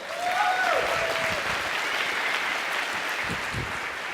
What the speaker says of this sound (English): Thanks for the round of applause.